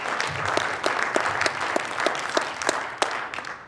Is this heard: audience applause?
yes